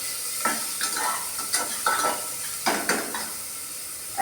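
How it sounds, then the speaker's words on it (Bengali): Bitter gourd fries in a hot pan while a spatula stirs it, a steady hiss of sizzling oil broken by repeated scraping clinks of utensil against metal, close and continuous. "করলা ছেড়ে দিলাম দিয়ে আমি একটু নাড়াচাড়া করবো"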